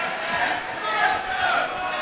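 Crowd noise from spectators at an amateur MMA fight at the UK Amateur Championships, a steady broadband roar of cheering and shouting that swells slightly mid-way and continues throughout.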